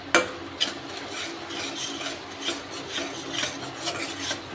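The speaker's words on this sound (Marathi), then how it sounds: "आता आपण हे सगळं मिक्स करून घेऊ" A spoon stirs garam masala and kitchen masala into a frying mixture for dhaba-style shev bhaji. The pan scrapes and rubs in a steady rhythm, with one sharp clink at the start and a light sizzle underneath.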